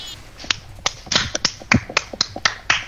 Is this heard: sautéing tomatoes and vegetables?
no